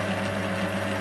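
Home-made lathe spinning at 460 rpm, a steady close mechanical hum with a constant tonal whine and no variation over a brief moment.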